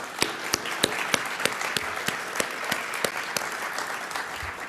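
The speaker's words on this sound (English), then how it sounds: "That's a round of applause for sure." A few scattered claps at a Toronto Police public event, heard as sparse, distinct hand strikes spaced through a quiet room rather than a full round of applause.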